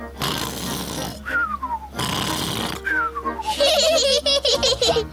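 Voice imitating the loud snoring of Uncle Pig from Peppa Pig: two rasping inhaled snores each followed by a descending whistle, then giggling and playful cartoon sounds.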